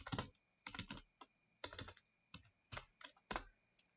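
Close, quiet keystrokes on a computer keyboard as a git tag command is typed, coming in short irregular bursts with small gaps and no talking.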